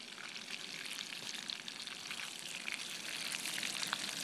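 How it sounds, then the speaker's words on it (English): Bacon frying over a campfire setup in a forest campground, a dense, bright crackling sizzle heard steadily at moderate distance with no talking. "Ain't nothing like cooking bacon right here in the forest."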